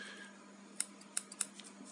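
Small EDC scissors are handled up close, giving a few crisp metallic clicks and snips scattered over a faint, quiet background.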